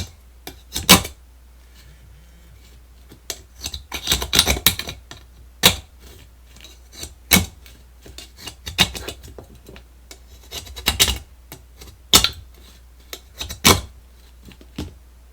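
Metal being cut for relief notches on a homemade wood gas stove, heard as a series of sharp, separate rasping cuts and snips at irregular intervals, fairly close, with quiet gaps between them.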